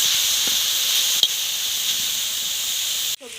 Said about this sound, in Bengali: সব সবজিগুলো কিন্তু আমি অল্পই ভেজে নেব,